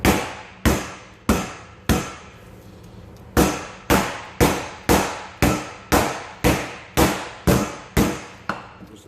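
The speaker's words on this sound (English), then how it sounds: "We want to pound it in an even motion because we don't want to tear the flesh of the chicken" Butterflied chicken breast pounded flat under plastic with a mallet, a series of about fifteen sharp, hard thwacks in a fairly even rhythm, loud and close, each blow ringing briefly before the next.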